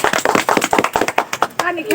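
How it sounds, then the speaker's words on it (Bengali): Audience claps for contestants at a chicken-and-rice eating contest, a loose burst of close, sharp hand claps over about two seconds while a voice speaks over them. "সবাই একটা হাততালি দেয়"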